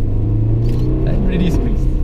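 A Subaru engine held at full throttle, a steady loud low rumble with a rising tone, with voices talking over it.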